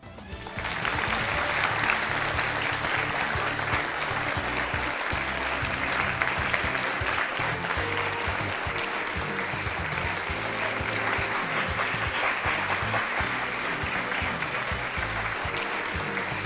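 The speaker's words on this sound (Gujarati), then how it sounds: "અને આ તાળીઓ વાગતી રહે." A large studio audience claps continuously during a TV talk show, a dense, steady wave of applause that keeps going without letting up.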